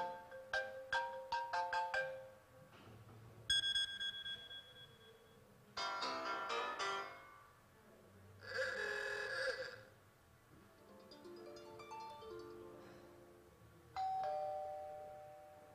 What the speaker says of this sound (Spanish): Pero viene con ringtones bastante buenos